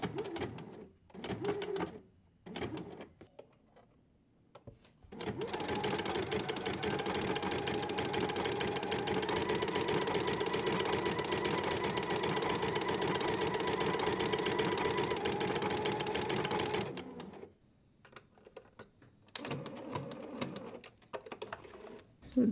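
A sewing machine fitted with a flower stitch foot stitches a decorative pattern in one long, steady mechanical run of about twelve seconds. Brief quiet handling noises come before and after it.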